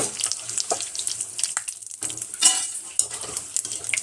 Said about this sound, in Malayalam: നമുക്കിത് ആദ്യം തന്നെ കരിയാപ്പില വറുത്തെടുക്കാം